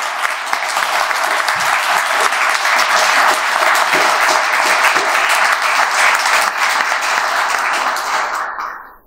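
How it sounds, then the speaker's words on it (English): A large audience at a startup summit pitch event breaks into a loud, dense, steady round of applause that holds for several seconds before cutting off abruptly at the end. "can we just have one last final round of applause for the startup summit?"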